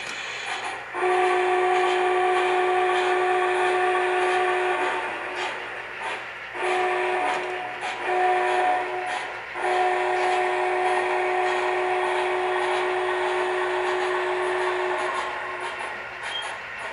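An MTH HO scale Big Boy model locomotive running on a home layout, with a steady mechanical hum and sustained horn-like tones that rise and break off repeatedly.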